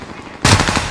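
Automatic gunfire in a video game, a sudden loud burst of rapid shots cutting in after a brief quieter lead-in.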